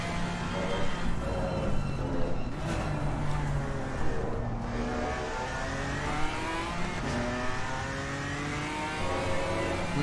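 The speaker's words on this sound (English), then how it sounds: "You can hear Onco Brown over the curb again on the brakes" Race car engine in a GT sim racing game at Misano, braking hard over a curb, with a loud continuous engine note shifting pitch as it decelerates and revs, plus commentary talk over it.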